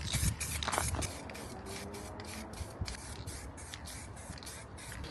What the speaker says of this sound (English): Now let's spray with the spray paint and see how it turns out.